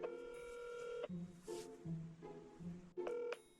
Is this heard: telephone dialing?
yes